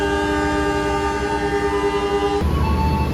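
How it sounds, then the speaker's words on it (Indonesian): Trains at an Indonesian station, the KA Lodaya and the Taksaka New Generation: a loud, sustained multi-tone horn blares close by for a couple of seconds, then cuts off into rumbling rail noise. "di sana ada langsiran kereta api Taksaka New Generation"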